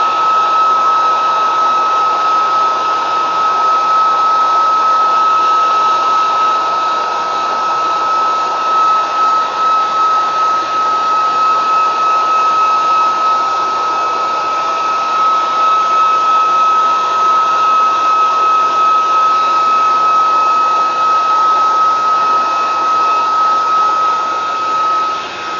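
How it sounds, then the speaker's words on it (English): A cheap handheld hair dryer blows steadily to dry paint on a life-size Claymore sword prop replica, a loud continuous whir with a high motor whine that holds throughout, with no talking. "if I want to dry it quicker, I go ahead and use a hair dryer. Just cheap hair dryer."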